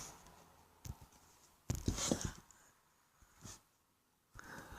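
Pen sketching a quartic graph on paper, scattered scratchy strokes, a longer scribble in the middle and a few short taps, close and faint, with no speech.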